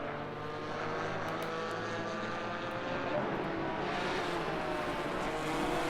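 A GT4 racing car engine at Valencia rasps at high revs, a steady, loud, dense engine roar holding throughout as it climbs into the higher gears, with no talk over it.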